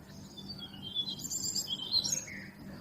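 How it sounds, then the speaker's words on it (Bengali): Several birds chirp and twitter in short, high bursts in the morning, moderately close, over a steady low background hum. "পাখির ডাক"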